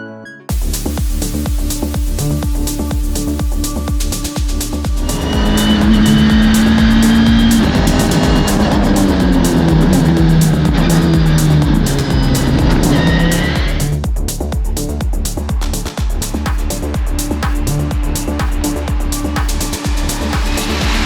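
Lamera Cup race cars at Misano circuit, engines droning loudly as the pack passes close by, a rising and falling roar of several cars with steady high-pitched engine whine throughout.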